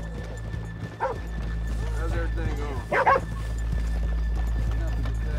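Horses in the video game Red Dead Redemption 2 clop along with rhythmic hoofbeats under steady in-game ambience, while a voice speaks briefly over them.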